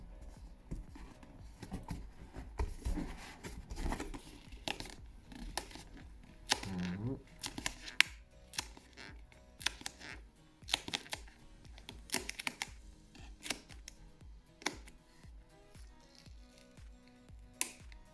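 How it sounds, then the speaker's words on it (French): Cardboard packaging of a Razer BlackShark V2 headset is peeled and pulled apart in close, scattered crinkles, tears and taps, with quiet speech in places. "Je suis en train de dépiler le carton là."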